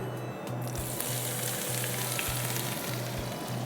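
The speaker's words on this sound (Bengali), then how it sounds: "আমি তো পেঁয়াজ কুচিটা এখানে দিয়ে দিব।" Chopped onion fries in a pan with a loud, dense, continuous sizzle that stays close and steady. A faint low hum pulses underneath at regular intervals, and no one speaks.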